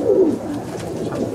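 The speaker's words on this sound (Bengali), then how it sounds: "এই আমার কালডোমা পায়রা" A Kaldoma pigeon gives a close, soft, throaty coo that rolls in a low murmuring burble through the brief moment.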